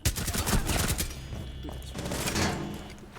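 Rapid bursts of gunfire during an esports match between RPK and Santos, dense clattering shots up front, then scattered fire and thuds under a commentator's fast talk.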